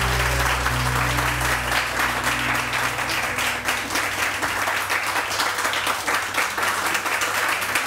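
A seated audience applauds heavily in a hall, a loud, sustained burst of dense clapping that stays even for several seconds without voices.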